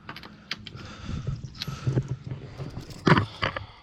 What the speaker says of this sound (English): We're gonna loosen up the lug nuts.